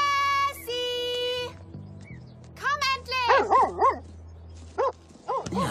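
A dog barks and yips in a few short, excited bursts, some sounding whimpering, close by, alongside people talking and other tonal background sounds.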